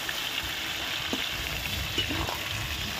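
Chicken leg pieces sizzle steadily in hot oil while browning for a Bengali-style chicken jhol, a constant close crackle with a few soft stirring knocks and no voices.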